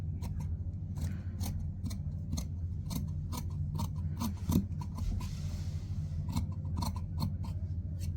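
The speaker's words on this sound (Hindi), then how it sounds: "हम पहले अब इसको काट लेते हैं।" Scissors snip steadily through blouse fabric while a princess-cut blouse is cut out, the close, crisp cuts repeating in a quick irregular rhythm over a low room hum.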